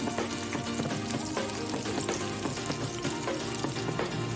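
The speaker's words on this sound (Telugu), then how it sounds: "ఈ పచ్చిమిరపకాయలు వెల్లుల్లిపాయలు వేయించుకుంటున్నాను." Green chillies and garlic fry in a pan for a chutney, a dense, continuous crackling sizzle heard up close with rapid stirring clatter running throughout.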